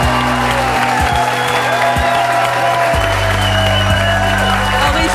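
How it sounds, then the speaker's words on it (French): A studio audience applauds steadily and loudly for several seconds, a dense continuous patter of clapping over a low musical hum. "Applaudissons très fort Henri Lecomte"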